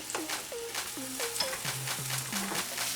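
Cornstarch-coated mushrooms fry in oil, giving a steady close sizzle broken by stirring scrapes and a few squeaky tones.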